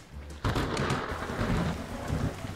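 Heavy rain and rolling thunder from a storm in the Roblox game RoVille, starting abruptly with a loud burst and then a steady, dense downpour roar with no voices.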